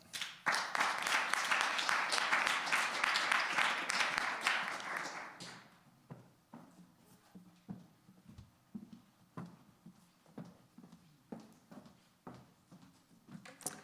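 Audience at a civic forum applauding after student presentations: dense clapping for about five seconds, then tapering into scattered, individual claps that continue faintly to the end.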